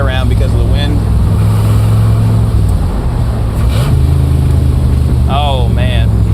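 A 1967 Corvette 427 convertible engine drones steadily at around 4,500 RPM while driving, with a brief dip and rise as the gear changes, wind rushing throughout and a person talking over it.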